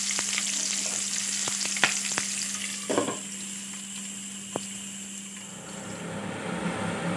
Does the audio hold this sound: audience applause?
no